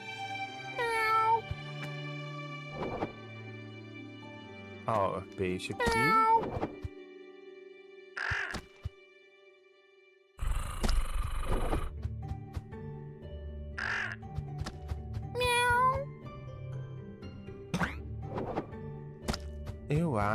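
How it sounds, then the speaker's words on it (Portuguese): A huge cat in the video game Just Crow Things lets out several drawn-out, cartoonish meows, mixed with crow caws and dull thunks, while someone talks between the calls. "Tem um gato enorme aqui embaixo, ele quer me devorar."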